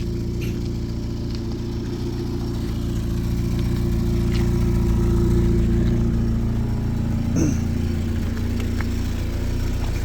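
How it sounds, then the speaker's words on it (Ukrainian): A 2011 Daewoo Nexia sedan's Ecotec engine idles steadily close by, a constant low hum with a faint brief knock partway through; the engine runs on petrol or gas. "Заведений двигун."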